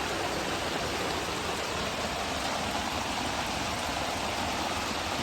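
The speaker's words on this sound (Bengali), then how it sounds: "হঠাৎ করে বৃষ্টি নেমে গেল" Steady, dense rain pours down without pause at an outdoor fishing spot, a broad even hiss filling the whole stretch with no voices.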